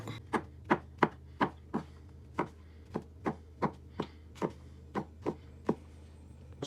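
Knife chopping chestnut mushrooms on a board, a steady run of about twenty crisp, close thuds at an even rhythm, with no talk.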